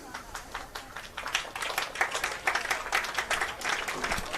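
Capacity crowd at a high school boys' soccer match at Pierce Field applauding an injured player as he walks off, steady clapping swelling and holding throughout with a broad, distant crowd texture.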